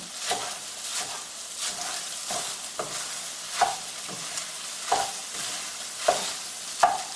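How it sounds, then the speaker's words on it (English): A soft, continuous sizzle of eggs stir-frying in a hot pan for Chinese-style tomato and egg, broken by regular scraping taps of a utensil stirring and breaking up the clumps. "I'm just breaking up the big clumps as I'm stir frying it"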